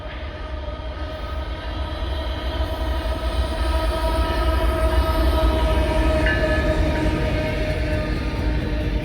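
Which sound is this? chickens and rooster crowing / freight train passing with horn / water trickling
freight train passing with horn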